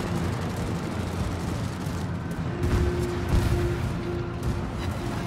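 Naval gunfire in the World of Warships video game, a steady rumbling barrage with low booms swelling around the middle, continuous and fairly loud throughout.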